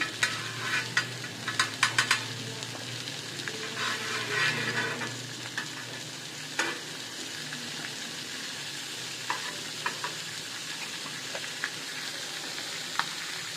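Tandoori chicken sears in butter in a pan, a steady close sizzle with scattered sharp crackles and spatters. A few utensil clicks come early, then the frying settles into a constant hiss.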